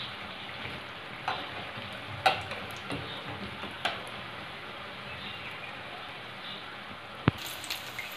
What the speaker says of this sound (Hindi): इसी तरह इसको हम धीमी आंच पे इसको भी तल लेंगे